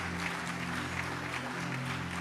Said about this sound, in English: Let's give Her Excellency a round of applause